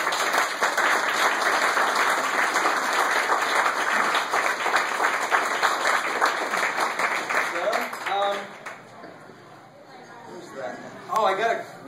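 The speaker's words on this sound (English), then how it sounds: "Slow clap." Guests at a rehearsal dinner applauding in a dense, steady round of clapping for several seconds, then the clapping dies away and people start talking.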